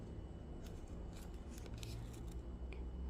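Scissors snip away excess material from a nature-inspired weaving, giving a few faint, quick cutting clicks over a soft steady background hum.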